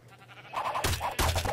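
Video game sheep bleat in quick succession, two or three nasal cries in a row, fairly loud and close, with no talking.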